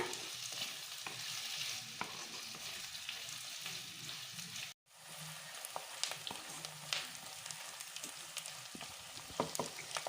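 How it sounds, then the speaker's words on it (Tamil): Onions and curry leaves sauté in a pan for a Chettinad country chicken curry, a steady soft sizzle with occasional stirring scrapes and a brief break midway, no talking. "ஆனியன் நல்லா வதங்கிடுச்சு."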